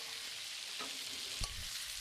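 Potato pieces fry in oil with dried red chillies, a faint, even sizzle with a couple of quiet stirring knocks and no talking.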